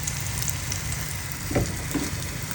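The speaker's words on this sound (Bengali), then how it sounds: "তাই ভাবলাম যে রাতে ডিম ভাজি খাই" Eggs fry in hot oil in a pan, a dense continuous sizzle with a couple of soft crackles and pops, close and steady with no talking.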